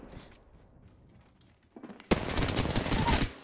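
Sudden dense burst of rapid gunfire in the Apex Legends shooter game, loud and continuous for over a second after quieter game ambience.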